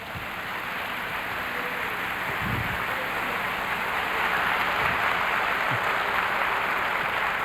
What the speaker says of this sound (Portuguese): Dê uma salva de palmas para Jesus de novo.